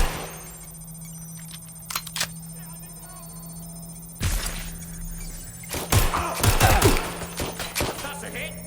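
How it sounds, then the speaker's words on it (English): Gunfire in the video game Watch Dogs Legion aimed at the player, with sharp bursts of shots and impacts clustering in the second half over a steady game hum, building into a denser volley near the end. "They're shooting at us."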